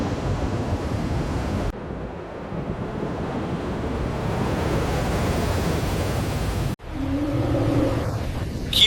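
Heavy ocean swell and surging waves wash steadily against the ship A.S.V. Atlas, adrift without engine power in rogue-wave seas, a loud, continuous roar of surf and wind buffeting that briefly drops out before rising again.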